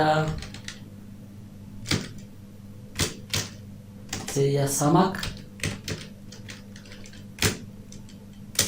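Sparse, uneven clicks of a computer keyboard while text is entered into a PowerPoint hotel and restaurant flyer, close keystrokes with a short murmur of speech partway through.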